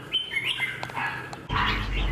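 A wild-caught red-whiskered bulbul, kept for song competitions, gives several quick chirps and whistled calls close by, followed by a sudden louder burst of noise.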